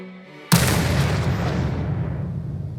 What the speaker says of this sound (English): drop back onto the launch pad, which caused a massive explosion